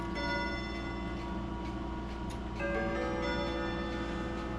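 A mechanical Westminster chime clock ticks steadily up close, with faint metallic chime-bell resonance ringing beneath the ticks and no one speaking.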